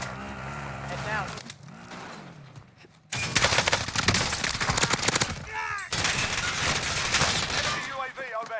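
Bursts of gunfire from the video game Call of Duty Warzone crackle in rapid volleys over game music and vehicle noise, with voices calling out between and over the shots.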